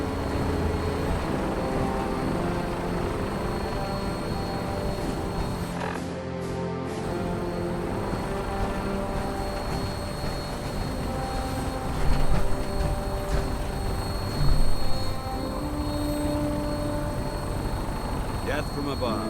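Gunship in flight from the video game Fallout 4, a steady loud rotor and engine drone running throughout, with brief louder bursts near the end and in-game voices speaking over it.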